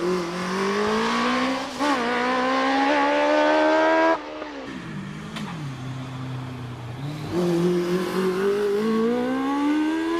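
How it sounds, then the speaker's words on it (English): A Peugeot 106 race car at the Prescott hill climb roars loudly up close, its engine revving high and dipping through gear changes with a brief tyre squeal. "It's Johnny Toon in the Peugeot 106."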